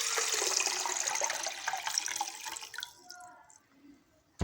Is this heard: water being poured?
yes